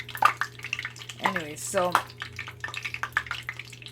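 Tortillas bubble in hot oil in a skillet, a soft continuous crackle and patter that runs under a few brief spoken words.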